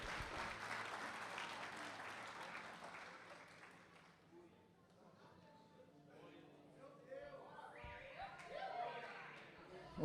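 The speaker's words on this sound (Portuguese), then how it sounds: "Os que podem, tomem o seu assento aplaudindo a Jesus" A church congregation applauds while taking their seats. The clapping is steady at first and fades midway, with a voice speaking over the crowd and the clapping rising again toward the end.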